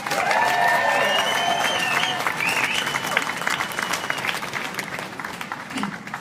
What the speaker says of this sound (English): Let's get a round of applause for Dr. Stephen Mayfield, guys.